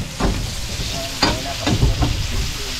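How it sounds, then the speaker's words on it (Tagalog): Onions sizzle in hot cooking oil in a pan for biryani sauce, with a steady frying hiss and a few stirring scrapes, close and fairly loud, no talk. "Gisahan niya mantika."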